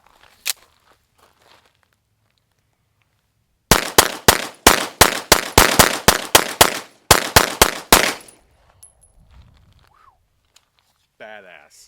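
A CZ TS 2 pistol fires a lone shot, then after a pause a rapid string of roughly fifteen loud, close, sharp reports, followed by near silence.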